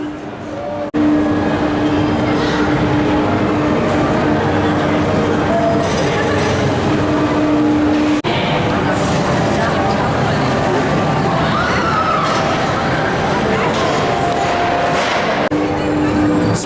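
Riding the Wintertraum Mack spinning coaster at Phantasialand produces a loud, steady rumble of wheels and track, with a sustained hum and rattling. It carries through the whole ride with crowd noise, and voices come up underneath.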